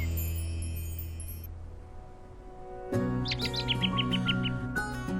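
Pet birds chirp inside a smart bird cage, a run of quick, bright tweets starting midway and repeating at close range over a steady indoor background hum.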